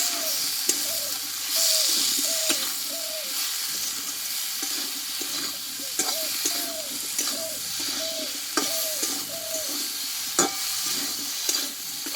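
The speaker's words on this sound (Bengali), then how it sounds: "মশলাটা দিয়ে ভালোভাবে আরও একটু কষিয়ে নেবো ভালোভাবে" Spice paste of cumin, turmeric and salt being stir-fried with taro in a pan, a steady close sizzle broken by repeated scraping strokes of a spoon in a loose rhythm, with no talking.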